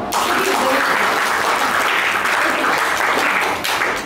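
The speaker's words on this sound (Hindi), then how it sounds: "ताली मारो" Children clap together in a dense, steady burst of applause during a storytelling session about Gandhi's life, holding roughly even loudness for about four seconds before easing slightly near the end.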